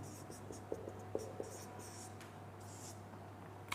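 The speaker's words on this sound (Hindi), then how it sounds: "इसको चलो एक बार मैं और लिख देता हूँ" Chalk or marker scratches across a board during a Hindi-language maths lesson on counting zeros, with short strokes and taps in a loose rhythm over a low steady hum in a quiet room.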